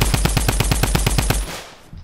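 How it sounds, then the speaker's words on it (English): A rapid burst of automatic gunfire, about a dozen evenly spaced loud close shots in quick succession, then an abrupt stop and a fading tail. "He's shooting, he's gonna shoot me."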